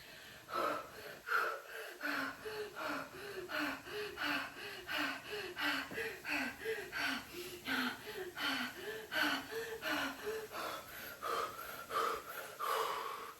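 A voice imitates rebirth breathing: a long run of rapid, rhythmic gasping inhales and wheezy exhales, close and steady, repeating over a dozen cycles with a brief pause near the start.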